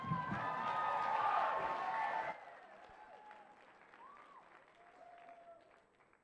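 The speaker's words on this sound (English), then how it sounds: "Please give them all a huge round of applause." An audience at a live music evening gives performers a round of applause and cheering, a dense crowd roar that cuts off sharply after about two seconds and leaves faint room noise and scattered voices.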